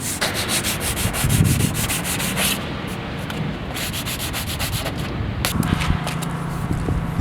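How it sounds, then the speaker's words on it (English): Sandpaper rubs steadily by hand over a car door's bodywork in close, continuous back-and-forth strokes, with no talking. "I'll just take it off, sort of in line with the rest of my sanding in the door"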